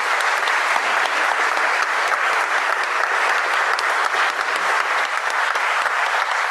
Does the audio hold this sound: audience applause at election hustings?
yes